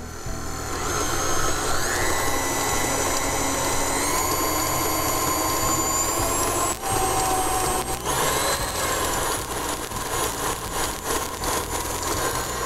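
An electric mixer whirs steadily through chocolate mousse batter, a close continuous motor hum with whining tones that shift in pitch, plus a few brief knocks against the bowl.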